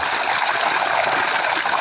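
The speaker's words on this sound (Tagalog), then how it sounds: "ang tubig pong ito ay galing bukal. So ito po ay walang humpay po ang kanyang pagtagas 24 hours" Natural spring water at a campsite flowing continuously, a close, loud, steady rushing and gurgling stream of water with no pauses or voices.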